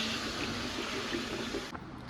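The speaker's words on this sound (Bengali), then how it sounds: "লবণ, টমেটো, জল দিয়ে দেবো।" Water poured into a curry pot with salt and tomato, a steady close hiss of flowing liquid that cuts off sharply near the end.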